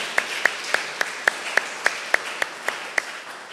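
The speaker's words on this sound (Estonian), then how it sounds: "Kõlav aplaus!" Sharp, evenly spaced single claps ring out at a steady rhythm, about a dozen in a row, at a village elder candidates' hearing in Randvere, Estonia.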